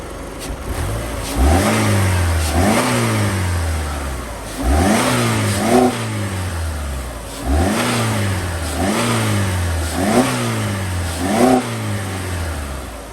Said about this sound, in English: I like to try to rev it up a little bit so you can hear a little higher RPM